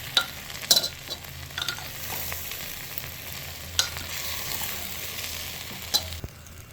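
Ground garam masala, sugar, salt and turmeric are stirred and lightly fried in a pan for khichuri, giving a soft continuous sizzle broken by several sharp scraping stirs.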